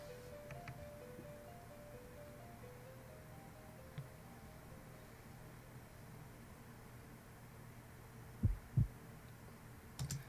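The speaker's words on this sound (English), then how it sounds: "I heard a heartbeat" A heartbeat effect within a song: soft paired low thumps near the end, over a quiet, humming musical backdrop.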